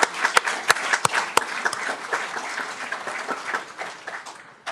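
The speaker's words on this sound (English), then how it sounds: "Let's give her a round of applause." Applause breaks out in a city council meeting room, dense and even across the room with a few sharp, close claps standing out early, then gradually thinning toward the end.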